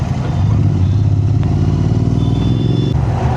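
A red Porsche's exhaust note heard while riding alongside on a motorcycle, a loud, continuous engine drone mixed with heavy wind and road rumble, steady throughout without talk.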